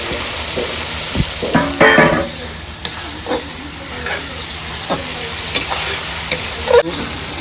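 Chicken curry being stirred and sautéed in a pan with salt added, with a steady sizzle and scattered scraping stir strokes. The stirring comes up close and fairly loud.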